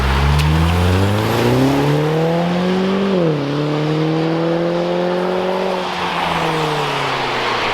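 A Genesis car with a newly installed aftermarket exhaust revs loudly and steadily close by, its engine note climbing, dipping briefly, then holding a strong rising drone before settling, with no talking over it.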